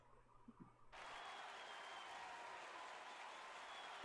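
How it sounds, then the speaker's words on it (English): Crowd cheering from The Great Ace Attorney video game, a steady sustained wash of applause and cheers that starts abruptly after a short quiet moment and holds at an even level, ending on a sharp louder burst. "There's the cheering."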